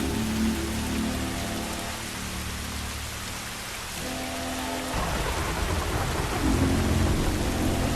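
Heavy rain pours steadily in The Last of Us Part 2 while low thunder rumbles underneath, the storm swelling louder toward the end with no voices.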